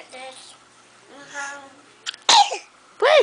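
A young girl gives a sharp sneeze-like burst, then another soon after, following a few soft vocal sounds from her at close range.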